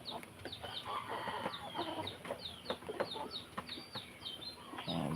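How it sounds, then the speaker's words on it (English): Backyard flock of four native chickens, one hen and three roosters, clucking steadily with repeated chirpy calls up close, a continuous busy chatter with no talk over it. "And these are loving chickens."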